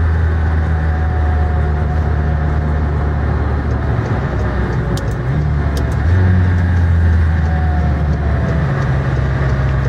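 A McLaren Senna sports car's engine pulls hard under acceleration, a loud sustained drone with shifting pitch steps as the revs climb and drop between gears, heard from close inside the car with no voices.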